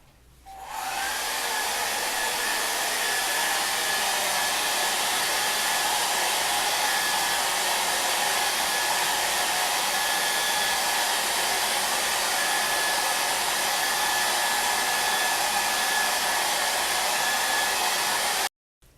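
A hair dryer blowing on wet stencil paint, switching on and running as a loud, continuous whoosh with a steady whine, then cutting off abruptly near the end.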